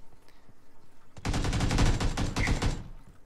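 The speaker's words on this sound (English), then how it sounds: "What the fuck is all that gunfire?" Gunfire in the battle royale game PUBG near a large prison building, a sudden rapid burst of automatic shots lasting over a second, loud and close after a quiet lead-in.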